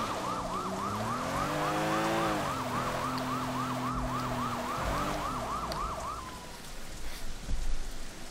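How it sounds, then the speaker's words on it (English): Police car siren in the video game Sleeping Dogs, a rapid rising-and-falling electronic wail that runs steadily for about six seconds over rumbling engine and rain-like noise, then cuts off. "I'm in a police car."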